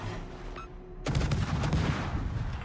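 Rapid naval gunfire from the German warship Wiesbaden in a video game, a dense burst of booming shots breaking in after a quiet moment and continuing as a rolling barrage.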